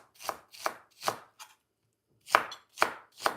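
A knife chops roughly on a cutting board in a kitchen where olives and onions are being prepared: seven sharp, close knocks, three evenly spaced, a light tap, a short pause, then three more, with no talking.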